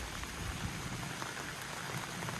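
Light rain falls outdoors at dusk, a steady, even patter of drops on surfaces with a soft continuous hiss and no voices.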